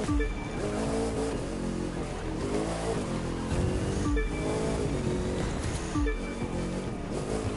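A Bugatti Divo hypercar races in The Crew 2, its engine wailing up through the revs and dropping at each gear change in a loud, continuous cycle with no talking.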